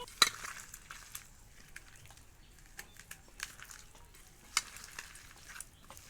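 Jujube plums are squeezed and mixed by hand into a sour-spicy relish, a faint, close crackle of wet squishing with a few sharper squelches scattered irregularly.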